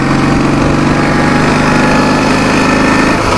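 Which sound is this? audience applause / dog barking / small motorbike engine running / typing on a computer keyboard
small motorbike engine running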